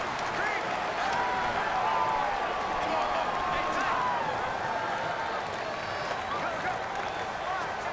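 Stadium crowd in the Madden NFL 19 video game, Kansas City Chiefs against Cleveland Browns, a loud sustained roar of cheering and chanting filling the whole stretch with voices shouting within it.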